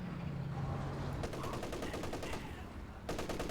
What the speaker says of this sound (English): Oh, captured MG34, pinning down that Ovisvatson